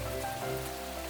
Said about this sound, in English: the skies thundered and it started to drizzle.